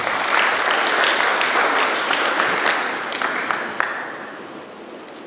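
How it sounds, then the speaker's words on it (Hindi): Loud, dense applause from a church gathering fills the space, a steady wash of many clapping hands that thins slightly toward the end, with no speech over it. "जोर से तालियां इनके लिए।"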